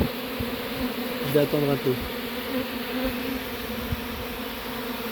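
A steady buzzing drone of a flying honeybee swarm fills the air, with brief speech partway through and a few soft knocks.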